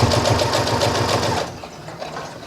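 A sewing machine stitches a designer pocket in a fast, even run of loud needle strokes for about a second and a half, then stops and leaves only quiet room noise.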